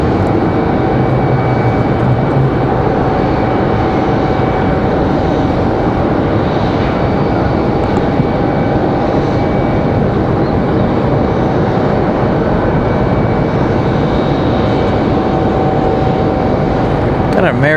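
An American Airlines A321 jet taxis toward the end of the runway at Raleigh-Durham airport, its engines a loud, steady whine and roar that holds evenly throughout with no breaks.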